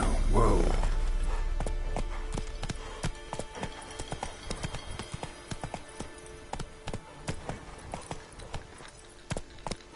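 Horse hooves in The Witcher 3 video game, rhythmic clip-clop footfalls gathering pace after a heavy low rumble, repeating in steady bursts of close, clear thuds.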